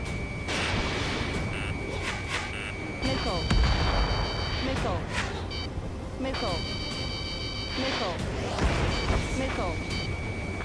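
Artillery fire booms repeatedly in the combat flight game Ace Combat, with heavy thuds and blasts over a dense battle din, while radio voices talk and beeping alert tones sound.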